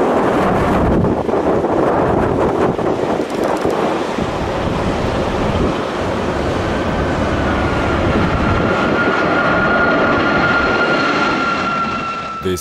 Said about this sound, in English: This Boeing 737 was forced to go around in strong winds.